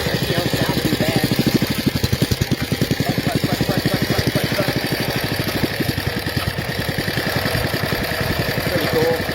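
A custom motorcycle engine idles nearby with a steady, rapid low chugging that holds evenly for several seconds.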